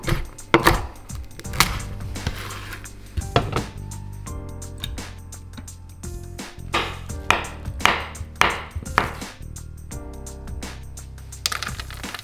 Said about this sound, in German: dann kann man so leicht angefroren, kann man auch schöne Croutons schneiden